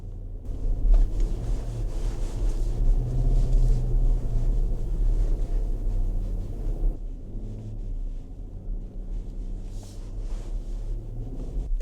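A 2026 Nissan Patrol Warrior V8 (Y62) climbs a hill off road in four-wheel-drive high range, giving a constant deep engine rumble up close with wind buffeting over it and a brief easing partway through.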